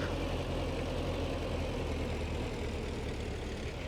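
A tractor engine running steadily in the farming video game Farming Simulator 19, a continuous low idling drone with even loudness throughout and no voices.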